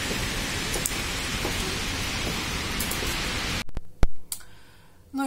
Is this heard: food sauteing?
no